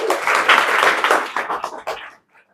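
Enthusiastic clapping from a classroom of students during a general knowledge lesson, loud and dense at first, then thinning out and stopping abruptly, leaving near silence at the end.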